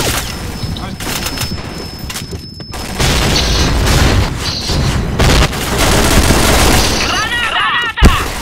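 Grenade blast in the online shooter Point Blank, a loud boom landing amid steady gunfire and game effects, with a sharp burst near the end over continuous combat noise and team voice chat.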